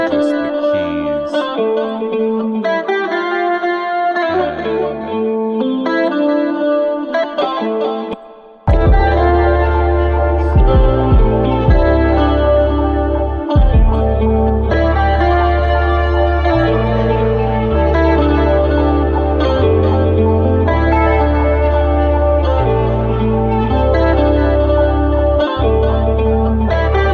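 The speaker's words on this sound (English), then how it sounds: "This is what it sounds like with just the keys." Keyboard sample for a hip-hop beat, EQ'd with the bass removed and drenched in reverb, playing sustained chords alone at first, then joined by heavy bass and percussion that continue steadily to the end.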